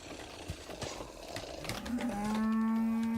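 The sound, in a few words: cow mooing in video game Songs of Syx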